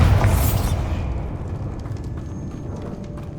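Bombarda spell explosion in Hogwarts Legacy, a loud deep boom at the start that rolls off into a fading rumble with scattered debris crackles.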